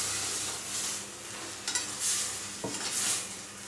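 Ground masala paste sizzles and fries in hot oil for pea pulao while being stirred, a steady crackling hiss with a few scraping stir strokes near the middle, close by and alone.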